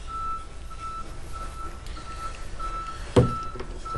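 A truck's reversing alarm beeps steadily outside, faint and distant, indoors under a low background hum, with a brief knock near the end.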